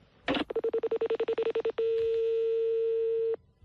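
A landline telephone number is keyed in as a quick run of about a dozen steady touch-tone beeps, close and clear, followed by a long continuous ringback tone; no one speaks.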